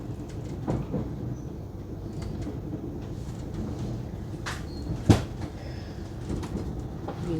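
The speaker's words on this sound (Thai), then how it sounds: "รถไฟก็จะเสียงเงียบมากแล้วก็นั่งนิ่มนะคะ" Steady low rumble inside a moving passenger train on the Porsgrunn–Larvik line in Norway, fairly quiet and even, with faint clicks and a single sharp knock partway through.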